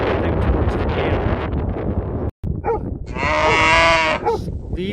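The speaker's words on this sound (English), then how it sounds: "Leave these cows alone." Cows in a countryside field near a barley crop, one loud drawn-out moo close by after wind buffeting the microphone, with shorter lowing calls around it.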